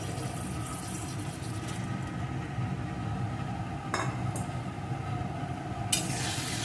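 Fried potatoes and pointed gourd (potol) sizzle steadily in a pan as they are stirred, with a low continuous frying hiss and occasional sharp scrapes of the spatula against the pan.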